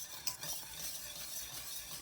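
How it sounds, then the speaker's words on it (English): Flour gravy whisked in a pan for country steak, a steady close scraping swirl with a faint sizzle underneath, no talking. "Just use your whisk"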